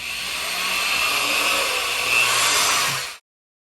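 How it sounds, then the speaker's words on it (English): A power drill fitted with a number 4 bit bores a hole through a marked outer point during a Honker C5 installation, a steady high whine lasting about three seconds before cutting off abruptly. "So now we're gonna drill through these 12"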